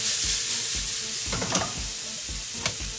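Beef tripe sizzling as it is added to toasted flour in a pan, steady frying hiss with stirring scrapes and a few sharp clinks, close and loud with no talk.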